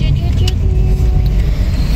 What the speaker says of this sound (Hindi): मैं तो आज कितने दिनों बाद गाड़ी चला रही हूँ